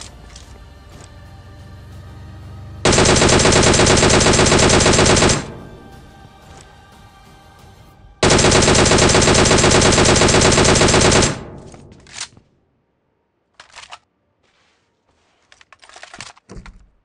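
Gunfire in a mobile battle royale shooter game played on a Samsung phone, two long, loud bursts of rapid automatic fire a few seconds apart, followed by quieter scattered in-game sounds.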